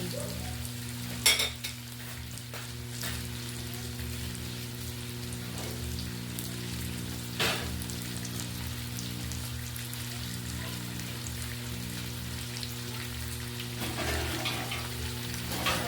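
Potatoes being stirred into pork adobo in a frying pan give a steady close sizzle with scattered scraping stir strokes over a constant low hum.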